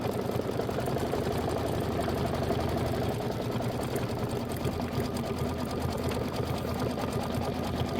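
A sewing machine stitching a Kimberbell mini quilt with white thread runs in a fast, even, continuous whir at close range, steady throughout with no pauses.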